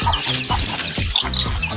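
Repeated hen clucks in short bursts, close by, with a busy layer of other birds and farmyard noise filling the background.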